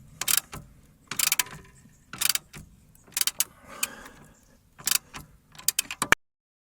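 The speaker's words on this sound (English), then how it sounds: "put the nut on and tighten that up. Stop it rotating with my spanner" A spanner ratchets a nut tight on the front anti-roll bar bush mount of a Skoda Fabia Mk1 1.9 PD, in repeated close bursts of rapid clicking separated by short pauses.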